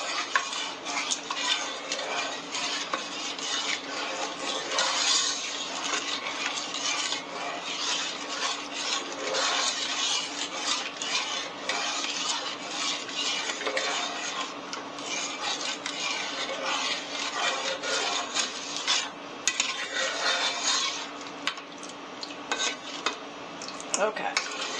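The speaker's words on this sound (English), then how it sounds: "So I'm just going to keep stirring because the sugar isn't fully dissolved yet." Cranberry sauce with sugar being stirred in a pot, a steady scraping and swishing with frequent light clinks of a spoon against the metal, continuing evenly throughout with no talking.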